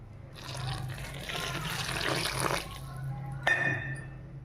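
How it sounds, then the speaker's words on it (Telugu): Water is poured a little at a time into rice cracker dough made with sesame seeds and moong dal, a close, gurgling trickle with light splashing that stops abruptly near the end. "కొంచెం కొంచెం వాటర్ పోసుకుంటూ గట్టిగా కలుపుకోవాలి."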